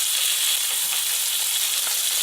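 Food sears in a hot pan with a loud, steady, close sizzle and crackle that holds for the whole stretch, with no one talking.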